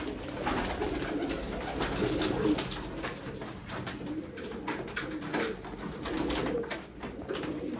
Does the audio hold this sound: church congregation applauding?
no